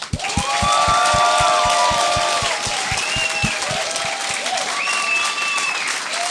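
A studio audience gives a hearty round of applause for two arriving guests, steady rhythmic clapping with some cheering and voices, while a few louder, evenly spaced claps stand out near the front.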